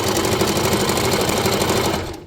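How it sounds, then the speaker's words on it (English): A sewing machine stitches in a fast, steady mechanical whir, close and loud, then stops abruptly at the end. "we're gonna get another view where you could hear the sewing machine again"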